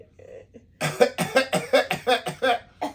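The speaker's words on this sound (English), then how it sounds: "See? It makes me cough." A rapid fit of coughing, about eight harsh coughs in quick succession, close and loud after a few faint sounds.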